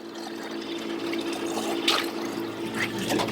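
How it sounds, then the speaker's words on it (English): Homemade hummingbird sugar water pours steadily into a washed container, a continuous close liquid trickle and gurgle with a few brief splashy surges, no voices. "I'm going to carefully pour this into a container that I have previously washed and prepared for this."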